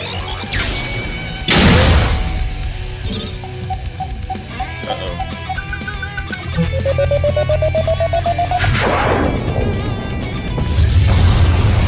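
Zero fires a charge shot in an animated Death Battle fight against Metal Sonic: two heavy crashing blasts with a rising whine between them, loud and booming over a humming backdrop of effects.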